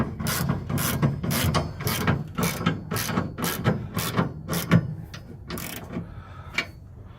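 Ratchet wrench with a shallow socket tightening Class 4 receiver hitch bolts on a 2001 Ford F150, a close run of quick clicking strokes in bursts with short pauses between them.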